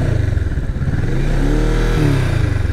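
A Kawasaki Vulcan S motorcycle with its stock exhaust revs below 3000 RPM, a loud, close, throbbing engine note that climbs and falls over a couple of seconds.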